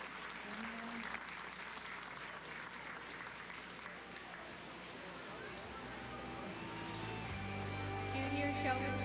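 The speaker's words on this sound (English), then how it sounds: "Let's give all these kiddos a round of applause" Crowd applauding at a youth livestock show cattle event, steady sustained clapping from an indoor audience for the young exhibitors, with a faint voice underneath.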